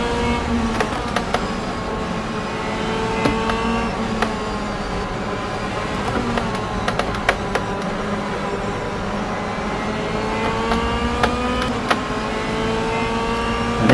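An Audi DTM race car engine at Silverstone in the racing game rFactor 2, a steady loud drone with rising and falling engine pitch and occasional sharp clicks throughout.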